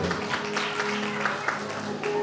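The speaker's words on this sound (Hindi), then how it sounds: "जोरदार ताली बहन के लिए" A congregation at a church Bible study on baptism claps loudly for a sister, with dense, steady applause filling the room for a couple of seconds under a faint background tone.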